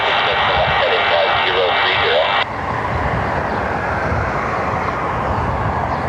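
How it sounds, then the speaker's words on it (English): A UPS Boeing 757 pushing back at Cleveland Hopkins airport fills the air with a steady, loud broadband roar of engine and ramp noise, whose brighter upper layer drops away partway through and leaves a lower rumble. "I see one of the UPS 757s is pushing back"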